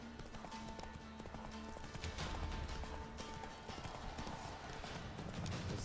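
Horse hooves clip-clop steadily in The Witcher 3 video game, a continuous trotting rhythm over game ambience and music, with no talk.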